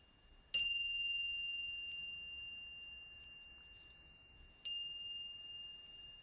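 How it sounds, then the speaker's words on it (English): A loud meditation bell is struck twice, each ring a bright pure tone that sustains and slowly fades, with a quiet pause between strikes. "And just to make sure that you are extra awake, we do the loud bell."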